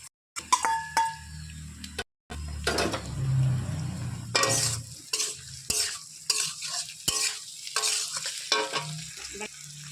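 Pre-fried paneer goes into a hot pan with a sudden loud sizzle, followed by bursts of stirring, spoon clinks against the pan and uneven frying hiss close by.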